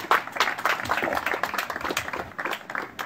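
Guests applauding at a quinceañera during the shoe ceremony, a steady patter of clapping from a moderate crowd that is fairly soft and continuous.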